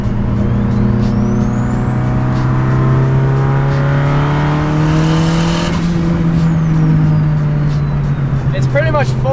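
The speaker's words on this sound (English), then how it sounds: "listen to the turbo on this thing. It's absolutely ridiculous." Turbocharged Toyota 4Runner with a G30-770 turbo pulling hard in fourth gear, a loud steady engine drone rising in pitch with a whistling turbo spool, continuous and close, with brief chirps near the end.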